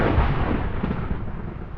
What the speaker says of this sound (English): Meantime, we get a wonderful thunderstorm.